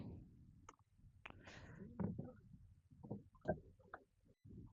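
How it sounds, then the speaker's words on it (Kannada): A large boat moves along the Aghanashini river past thickly forested banks, giving sparse, faint, close knocks and small splashes of water at irregular intervals in otherwise quiet surroundings. "ಇವಾಗ ಹೋಗ್ತಾ ಇದೆ ದೋಣಿ"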